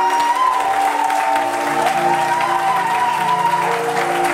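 A church congregation applauds and cheers God together, a loud, sustained wash of clapping and crowd noise with a sung or held tone running beneath it throughout.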